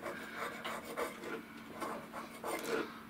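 A freshly honed flat scalpel scrapes old gasket off a boat engine's cooling faceplate in short, close, repeated rasping strokes with brief pauses between them.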